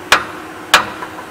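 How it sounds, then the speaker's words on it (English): A hammer taps a vehicle drive shaft to free it from the rear yoke, two sharp metallic strikes about half a second apart, close and loud, with a faint lighter tap after. "you need to get a hammer or a pry bar and tap the drive shaft"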